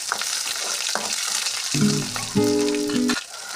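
Curry leaves and green chillies fry in hot oil with a strong, crackling sizzle. Partway through, a brief tonal hum sounds over it, and no one speaks.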